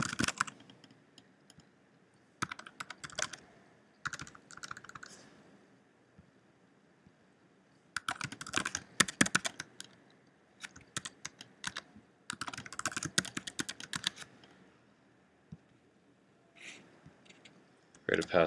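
Password typed on a computer keyboard during account setup: bursts of quick, close key clicks separated by short pauses, fairly quiet, with no speech.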